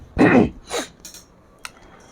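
A person coughs and clears their throat during a Hindi geography lecture, giving several short rough bursts in quick succession, followed by a fainter sharp one.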